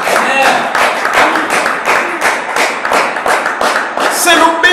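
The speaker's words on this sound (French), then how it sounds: "acclame bien" A church congregation at a French-language sermon claps in a steady, loud rhythm, the beats evenly spaced and continuing throughout, with voices mixed in.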